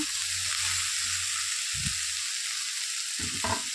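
Boiled bean seeds tipped into a hot pan, bringing a constant loud sizzle with a couple of brief low thumps and scrapes.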